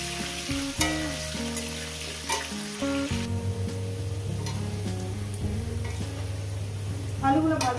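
Potatoes frying in a pan for a fish curry with drumsticks, a soft sizzle beneath someone talking, with a tonal music bed running along and a few light clicks.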